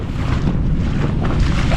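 Strengthening November wind sweeps across a reservoir during pike fishing, a steady loud rushing buffet on the microphone with a low rumble and faint water wash underneath.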